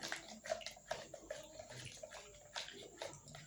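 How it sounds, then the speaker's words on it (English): Liquid soap mixture being stirred for a homemade rig wash, giving repeated soft sloshing and swishing strokes in a steady rhythm, close and moderately loud, with no talking. "Just keep stirring. Keep stirring. Keep stirring."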